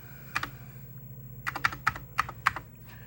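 Computer keys pressed in short irregular bursts while a network password is typed on an old Commodore BBS setup; about eight sharp, close clicks with brief pauses between them, over a low steady hum.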